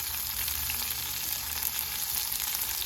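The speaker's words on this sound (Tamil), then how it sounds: "வெங்காயம் நல்லா வதங்கி வரட்டும்" Long-sliced onions sautéing in a hot pan after cinnamon goes in, giving a steady, even hiss of frying with no breaks and no voices.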